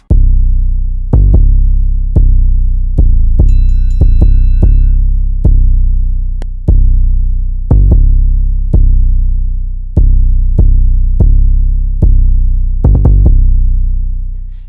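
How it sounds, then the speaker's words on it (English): Deep, booming 808 bass notes hit in a syncopated trap beat pattern, each tone sliding and decaying, with a brief high electronic blip midway. "I just took that same 808 and I created another pattern"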